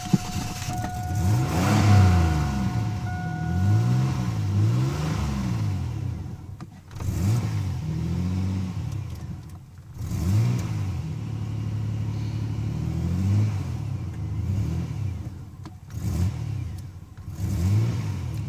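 Engine of a 1999 Chevrolet S10 Blazer, nearly out of gas, running rough and revving repeatedly in loud surging swells with brief dips between pulls.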